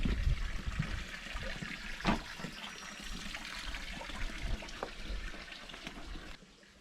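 Water from a cold roadside spring trickles and splashes steadily into a basin, close by and moderately loud, with a few brief louder gurgles and no talk.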